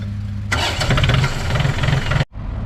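A John Deere diesel engine, freshly fitted with a new fuel filter and a cleaned fuel strainer bowl, cranks and catches into a loud, close, rough roar. It runs steadily for under two seconds, then cuts off abruptly, leaving a low background hum.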